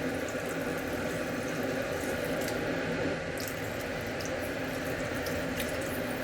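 A steady, rushing stream of water pours into a pot of roasted moth beans, close and even in loudness for the whole stretch.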